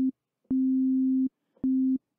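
A pure, low electronic sine tone sounds in three separate bursts, the middle one longest, with clean silences between them.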